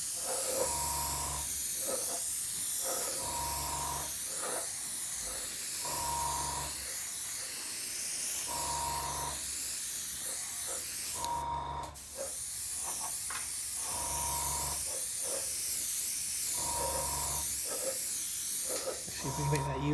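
Spray coat going onto the forward fuselage of a model aircraft, a repeated hiss in short bursts of a second or two with brief gaps, fairly close and steady in level.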